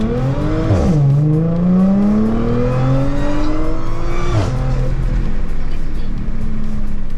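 A supercharged daily driver on a stage 1 tune launches at full throttle, its engine revving hard in two rising pulls with a sharp upshift dip between them, loud and close, then settling into a steady high drone.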